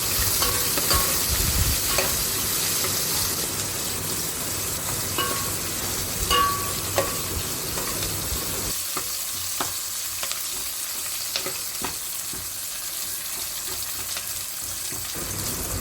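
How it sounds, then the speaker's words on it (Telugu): Dried red chillies, curry leaves and chopped onions frying in a pan for methala pulusu, a continuous close sizzle with repeated clinking stirs, easing slightly partway through. "ఎండుమిర్చి, కరివేపాకు, ముందుగా కట్ చేసి పెట్టుకున్న ఆనియన్స్ అందులో వేసుకోవాలి."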